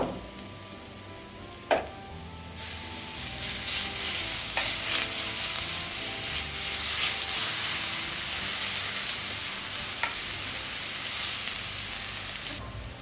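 Crushed garlic and chili sticks fry in a pan with a steady, close sizzle and hiss, broken by a few sharp clinks of stirring.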